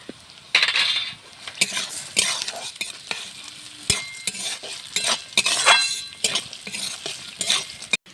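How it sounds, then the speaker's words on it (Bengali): Chana dal and peanuts go into a hot oiled pan for lemon rice, sizzling and crackling under repeated sharp clinks and scrapes of a spoon against the metal pan, with no talking. "এবার দিয়ে দেবো চানার ডাল, এবার দিয়ে দেবো চিনাবাদাম"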